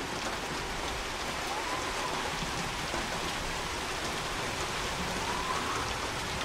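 Heavy rain in Hunt: Showdown pours steadily in a constant hiss of drops hitting surfaces, unbroken and fairly loud from start to end.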